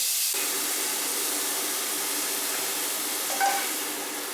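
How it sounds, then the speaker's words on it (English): Pork browns in a hot pan, with a sizzling hiss that starts abruptly and holds steady, plus a brief stir or shift of the meat near the end. "we're just going to brown off the pork"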